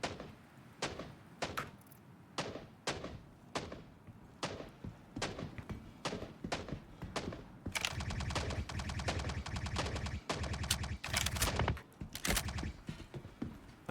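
Enemy gunfire in the Star Citizen video game: evenly spaced single shots crack at first, then a dense, loud burst of rapid automatic fire takes over, with a few more separate shots near the end.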